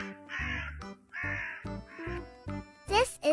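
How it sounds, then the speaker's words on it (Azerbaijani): A crow gives a series of four or five harsh, raspy caws in an uneven rhythm, close and fairly loud, followed by a brief chirpy flourish at the end. "This is a crow."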